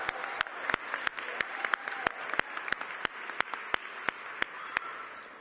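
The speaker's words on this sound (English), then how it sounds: "Let's give our Mayor, Muriel Bowser, a hearty round of applause for all her work." An audience at a ribbon-cutting for the Edgewood Recreation Center claps for Mayor Muriel Bowser, a crowd of moderate size with sharp individual claps standing out over a steady patter.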